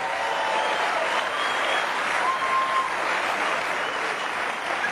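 Audience applause at a Dave Chappelle stand-up show fills the room, a dense, even roar of clapping holding steady for several seconds without any talk.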